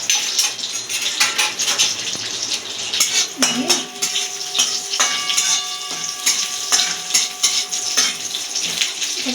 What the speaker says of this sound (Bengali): নাড়াচাড়া হালকা করে ভেজে এটাকে আমরা পোলার মধ্যে মিশিয়ে দেব